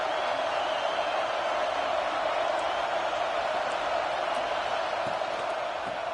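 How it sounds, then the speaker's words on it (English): A large football stadium crowd at a Florida game roars in a steady, dense wash of cheering that holds without a break. "This crowd ready to make its presence known."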